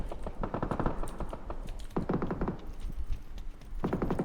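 Bursts of rapid gunfire aimed at a vehicle in PUBG, several clustered rattling volleys separated by short pauses, moderately loud with no talk over them.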